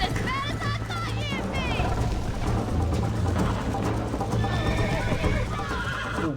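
A horse gallops in Red Dead Redemption, with rapid rhythmic clip-clop hoofbeats and a loud neigh, close and continuous, while voices talk over it.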